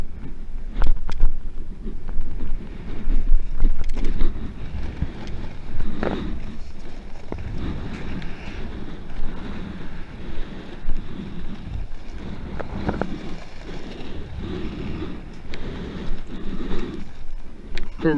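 Wind gusts buffet the microphone on a beach during a kiteboarding session, a loud, irregular rumbling roar with waves faintly beneath and a few knocks and handling noises.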